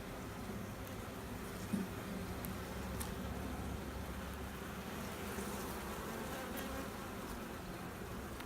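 Honeybees swarm around an open hive box during a colony split check, their steady, dense buzzing filling the air close by with a continuous drone and no voices.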